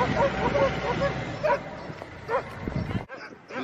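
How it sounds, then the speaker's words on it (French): Sled dogs at a kennel yard in Canada with about sixty small dog houses, yipping, whining and barking in a busy near chorus, with a voice talking over them. "Nous sommes devant l'enclos des chiens, 60 cabanes au Canada, 60 petites niches dans lesquelles les chiens vivent toute la journée et toute la nuit"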